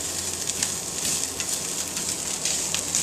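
Meat and onion sizzling steadily in a pan for salsa chili, a continuous hiss with faint stirring scrapes, close and without talk.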